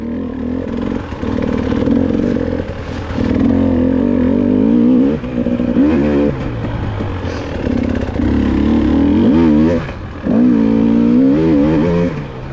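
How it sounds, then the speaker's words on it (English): A dirt bike in a hare scramble race revs hard and bogs as its throttle opens onto slick mud, the engine rising and falling in repeated surges, loud and close throughout. "Almost lost it there as I throttled onto the slick mud"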